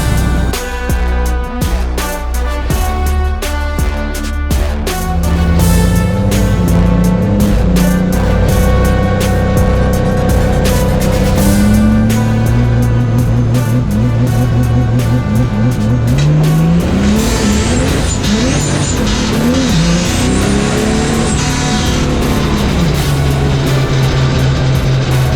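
A roughly 3,000-horsepower drag car engine roars continuously at high volume, climbing through rising revs with shifting pitch and tire-shaking rumble, loud and close throughout.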